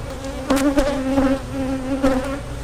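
Honey bees buzz at an open nuc hive, a close, steady droning hum with wavering pitch as individual bees pass near, loud and continuous with no talking.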